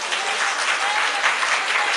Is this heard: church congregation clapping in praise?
yes